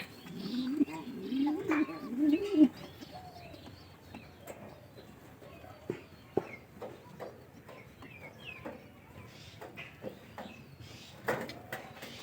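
Caged pigeons, one of them slightly ill and one a cross-bred bird, give soft low cooing early on, then faint rustles and small clicks, while someone talks nearby.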